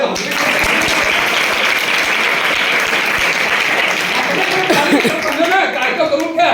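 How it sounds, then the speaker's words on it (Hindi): Audience applause at a motivational talk to students: dense, steady clapping fills the whole stretch at close range, with a few voices and some laughter rising toward the end. "ताली बजाओ"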